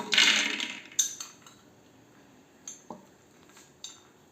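A metal spoon clinks against a pot or bowl while roasted hazelnut mixture is spooned out, a few sharp, close clinks spaced apart with quiet scraping in between, no talking.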